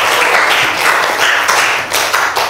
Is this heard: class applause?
yes